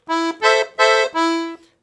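Right-hand keys on a piano accordion play a samba fourth beat: four sustained reedy chords in quick succession, the middle two accented, close and unaccompanied.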